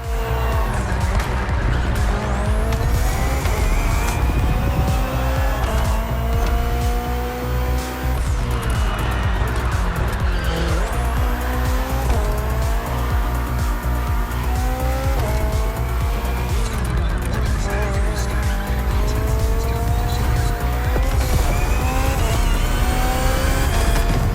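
A BMW hybrid V8 race car in The Crew Motorfest roars continuously and loudly through gear changes and revs, with repeated tire squeals and skids over a dense engine drone and no break for the whole stretch.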